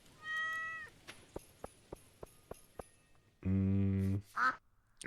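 A cat in the farming video game Stardew Valley meows, a short mewing call followed by a series of evenly spaced clicks, then a loud sustained buzzy tone and a second quick meow, all clear and close.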